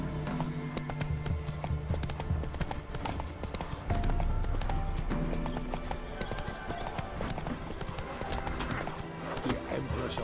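A horse gallops in The Witcher 3 video game, its clip-clop hooves pounding in a steady, loud rhythm over a busy background, with a brief neigh in the mix.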